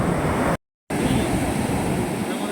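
Rough sea waves at Anjuna Beach in Goa, a loud steady roar of surf mixed with wind buffeting, cut by a short silent gap.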